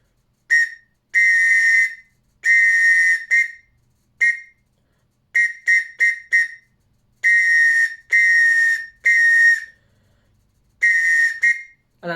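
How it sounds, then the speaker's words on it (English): A backpack-mounted whistle blows clear, shrill tones in Morse code, mixing short and long blasts separated by silent gaps, loud and close with no talking. "Then the whistle here,"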